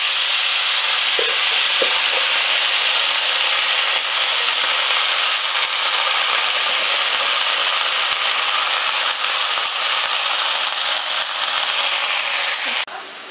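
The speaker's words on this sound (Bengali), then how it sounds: "এবার আমি এই ঘিয়ের মধ্যে কোচানো শাকটা দিয়ে দেব।" Chopped greens added to melted ghee in a pan over a very low gas flame: a steady, close, broadband sizzle with light stirring scrapes that continues without pause, then drops off at the very end.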